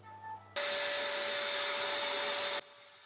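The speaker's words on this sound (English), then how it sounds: "just vacuuming slightly above it just to get the loose and the dust off, mainly the cork bits" A vacuum cleaner roars steadily for about two seconds with a high motor whine, lifting loose dust and cork bits from the cork background of a large Exo Terra dart frog terrarium, then switches off abruptly.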